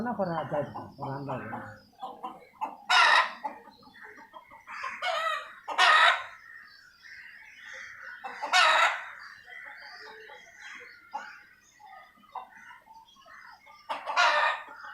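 Chickens and a newly bought white rooster clucking, with several loud crows repeating every few seconds close by, after a brief stretch of a person talking.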